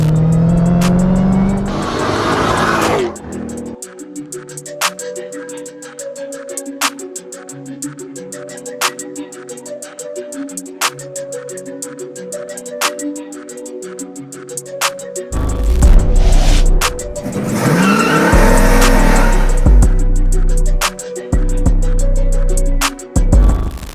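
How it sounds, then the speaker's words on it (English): A 1000hp widebody Dodge Charger Hellcat idles with a rough, lumpy burble, then its engine barks into loud revs and roaring blips toward the end, heard up close with no talking. "this is the Widebody Hellcat Charger we're gonna be building"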